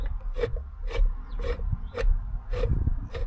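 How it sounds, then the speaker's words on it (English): Spare tire carrier on a Land Rover LR4/LR3 with stainless steel cables being wound down, producing a regular series of rasping ratchet clicks about every half second, close and fairly loud with no voices. "wind this down, wind it back up at least once a year, maybe twice"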